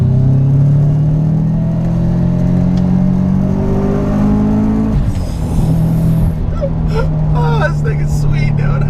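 A 500+ horsepower Subaru Forester XT revs hard through rising gears, the engine note climbing then dropping at a shift around the midpoint, loud and close, with voices talking over the latter part.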